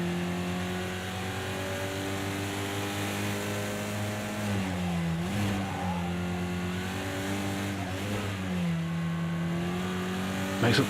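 A race car engine in Project Cars 2 at Imola, a five-gear car, revs continuously with rising and falling pitch through gear changes, loud and close throughout.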